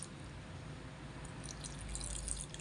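Vinegar pouring into a pot of paksiw as it cooks, a steady close liquid trickle and dripping that runs continuously and grows slightly louder toward the end, with no talking.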